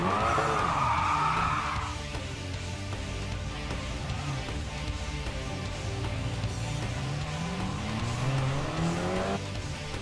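Car drifting in the racing game GT Sport, an X-Bow sliding through warm-up laps with a long, loud tire squeal over a steady engine drone that rises in pitch toward the end; no talking.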